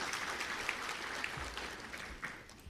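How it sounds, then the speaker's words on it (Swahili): Soft, continuous applause from a crowd at a formal government ceremony in Dodoma marking receipt of EU budget support funds, heard as a distant, even patter with a few sharper claps. "Naomba tumpongeze kwa makofi mengi sana."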